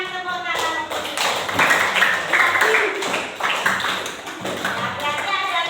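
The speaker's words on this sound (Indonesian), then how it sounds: "Berikan tepuk tangan untuk kita" Students clap in a classroom, a quick irregular patter of hands that swells and fades over several seconds, with voices talking and calling out underneath.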